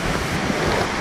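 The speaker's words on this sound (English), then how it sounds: "I am getting below to the waterfall." Kawasan Falls in Cebu, Philippines roars as a steady, loud wash of falling water close by, with no voices over it.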